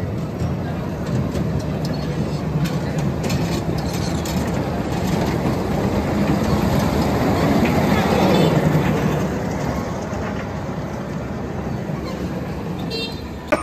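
An amusement park ride at Fantasy Kingdom in Bangladesh running in a steady, loud, rushing rumble that swells slightly midway, with no talking heard.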